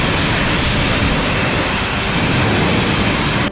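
Jetpack engines roar continuously during flight, a loud, dense, unbroken jet-like hiss and rumble close by that cuts off abruptly at the very end.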